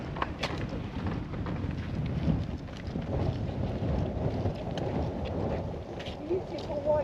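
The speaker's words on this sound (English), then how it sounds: "And it's windy as hell." Strong wind buffets the microphone on a white-sand beach, a constant rough roar that stays loud throughout, with a voice faintly present underneath.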